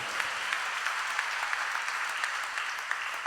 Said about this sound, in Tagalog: Malakas na palakpak para sa ating Panginoon.